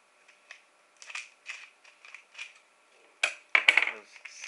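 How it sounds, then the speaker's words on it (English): Scissors snip into a cardboard Pokemon Pikachu EX promo box, a series of close, crisp cuts and crinkles coming in irregular bursts, growing louder toward the end. "Scissors will come out."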